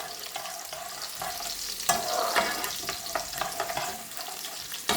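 Garlic cooking in a pan for a Rupchanda (silver pomfret) bhuna gives a steady, close sizzle, with repeated scrapes and knocks of a utensil stirring it through.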